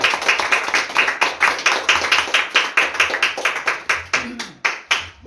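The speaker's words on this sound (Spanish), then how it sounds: "Dale fuertes palmas al Señor" A church congregation claps hands in rhythm during a Spanish-language worship service, sharp regular claps in a fast steady beat that loosens and thins toward the end.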